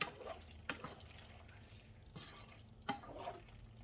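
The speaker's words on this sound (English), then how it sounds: "I'm going in and just stirring it around" Macaroni noodles being stirred in a pot with a spurtle for quick-bake mac and cheese: faint, soft wet scrapes and sloshing strokes, roughly three distinct stirring movements a second or so apart.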